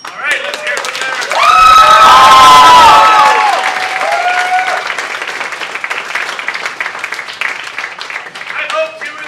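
A large crowd bursts into loud applause and cheering, swelling over a couple of seconds and then settling into steady clapping that carries on to the end.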